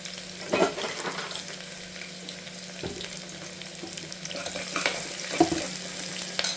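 Sliced onion fries in a pan for mint rice bath, sizzling steadily up close, with occasional scraping clicks of stirring over the crackle.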